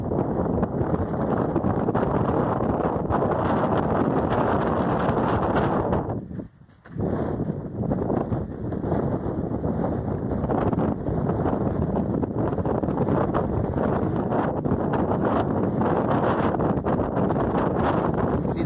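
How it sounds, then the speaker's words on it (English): Strong wind roars steadily into the microphone on a steep mountain ridge on the Pacific Crest Trail near San Jacinto, a broad continuous rumble with one brief lull partway through, no voices heard. "Pretty windy."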